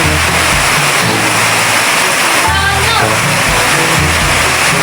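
Heavy, steady rush of rain pouring through a new roof into a house, loud and close, with a low rumble underneath.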